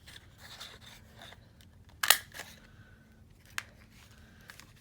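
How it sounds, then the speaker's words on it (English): Scissors snipping out a circle of paper for an envelope journal, a few quiet cuts with one loud sharp snip near the middle, close and alone without speech. "So I'll cut out a circle here."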